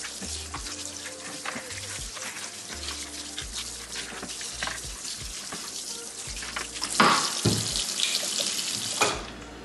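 Water runs steadily from a tap into a sink with intermittent splashing and clatter as pork is rinsed in a strainer, then the flow cuts off near the end.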